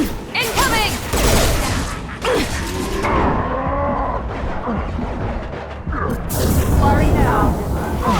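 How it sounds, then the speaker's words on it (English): Mass Effect 2 combat sounds a dense, loud mix of sci-fi gunfire and bursts under continuous shouting voices, busy throughout with no pause. "Heavy fire!"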